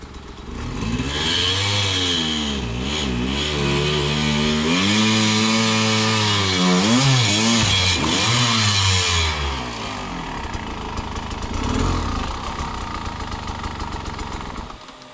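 A Sherco SE 300 dirt bike engine revs hard and buzzes, pitch surging up and down repeatedly before settling into a rough idle, loud and close.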